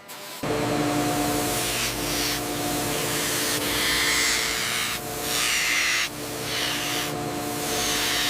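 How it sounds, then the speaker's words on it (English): A gantry-style CNC laser cutter slicing aluminum alloy in a helicopter factory gives a steady, loud hissing, spray-like roar with low mechanical hum, swelling and easing in several passes over the whole stretch. "The gantry-style CNC laser cutter slices through the aluminum alloy with sub-millimeter precision"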